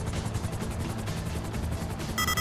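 Helicopter in Grand Theft Auto V during a heist mission, a steady chopping rotor thump with turbine whine at moderate level, continuous and without talk, ending in a brief high tonal game sound.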